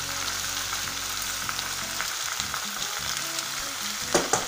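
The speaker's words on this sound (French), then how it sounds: "Alors je vais mettre un petit peu d'eau pour que ça fasse du bouillon" A pan of food sizzles and bubbles steadily after water is added to make a broth, with a couple of light knocks near the end.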